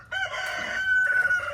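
Chickens on a farm with a rooster crowing in a long, drawn-out call close by, mixed with hens clucking underneath, steady and fairly loud throughout.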